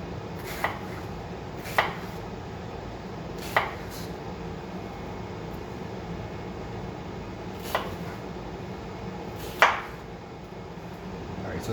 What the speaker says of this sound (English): I'm actually cutting my onions a little bit thinner here